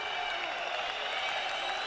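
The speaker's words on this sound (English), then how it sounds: "the Azerbaijani crowd is really letting Medzhidov hear it" An Azerbaijani crowd cheers at a 2011 amateur super heavyweight boxing quarterfinal, a dense, steady roar of many voices and clapping that holds at an even level throughout without a break.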